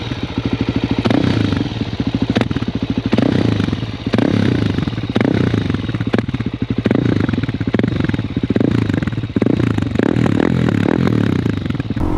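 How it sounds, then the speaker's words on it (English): A Suzuki DRZ400SM single-cylinder motorcycle fitted with a Yoshimura exhaust idles and is revved close by, its loud, thumping exhaust note rising and falling through several blips, with no voices. "On the back, we have the Yoshimura exhaust. I'll put a sound clip of that right here."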